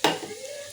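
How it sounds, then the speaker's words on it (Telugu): Soy chunks (meal maker) deep-fry in hot oil in a pan, starting with a loud stirring scrape that gives way to a steady, close sizzle. "డైరెక్ట్గా వేసేసి కొంచెం డీప్ ఫ్రై చేస్తాను. మిల్ మేకర్ వేసుకోవాలి."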